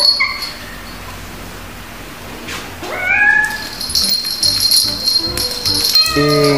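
A cat meows a couple of times, loud and close, over a low background hum.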